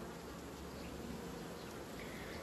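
Honeybees buzz at an open hive during a colony inspection, a dense, steady, low drone of many wings that stays constant and fairly faint throughout, with no voices.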